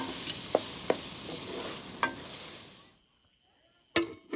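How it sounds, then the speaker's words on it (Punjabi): Tomatoes and green chillies cook in a pot in a village kitchen, giving a soft sizzle with a few sharp stirring clinks and scrapes, the sound dropping away near the end before one last clatter. "ਇਹਦੇ ਵਿੱਚ ਹੁਣ ਪਾਵਾਂਗੀ ਟਮਾਟਰ ਤੇ ਹਰੀਆਂ ਮਿਰਚਾਂ। ਇਹਨੂੰ ਮੈਂ ਚੰਗੀ ਤਰ੍ਹਾਂ ਪਕਾਵਾਂਗੀ।"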